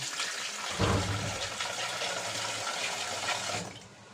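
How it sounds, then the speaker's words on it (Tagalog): Tap water pours into a container while making maja blanca in a home kitchen, a steady rushing splash that swells briefly near the start, then tapers off as the flow stops. "Atong punan og tubig na lang."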